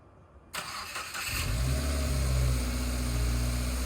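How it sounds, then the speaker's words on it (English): A car with its fuel pump fuse pulled cranks over briefly with a whirring starter, then catches and settles into a steady, loud idle with a low rumbling drone, heard close with no talking. "let's go ahead and start the car"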